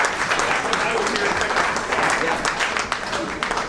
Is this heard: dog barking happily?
no